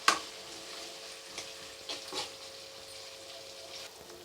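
Tomatoes fry with masala in a pan for a vada curry, giving a faint, soft sizzle with a few light stirring scrapes and no talk.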